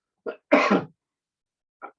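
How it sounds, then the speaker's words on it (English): A short burst of coughing, one small cough then a harsher, louder one, and a faint final cough after a pause. "getting over a little cough here"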